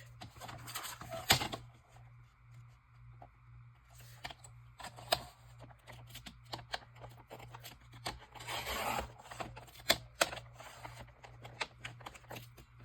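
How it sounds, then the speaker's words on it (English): A paper trimmer slices through paper in short, crisp rasping strokes between quiet handling sounds. The strokes are close and soft, and a faint steady hum runs under them. "Let's use the trimmer here. Just take off a scooch."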